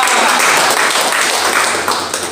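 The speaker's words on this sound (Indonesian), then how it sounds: "Tepuk tangan yang yakin." Congregation at an apartment prayer fellowship in Jakarta clapping together, a short, loud, dense burst of applause that fades slightly at the end.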